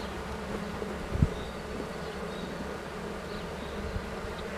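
Honeybees hum at a beehive during the swarming season, a quiet continuous buzz with a single brief louder knock near the start and no talking.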